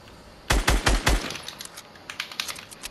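Gunfire in a battle royale video game: four sharp, loud shots in quick succession, then a quieter, more distant rattle of rapid shots.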